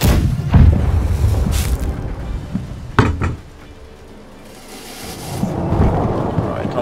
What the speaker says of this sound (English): The cannons are loading!